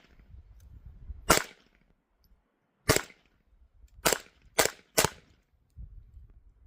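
Glock 44 pistol fed from a Pro Mag 18-round magazine, firing five sharp, loud, close shots at uneven intervals, the last three in quick succession, with quiet handling noise between.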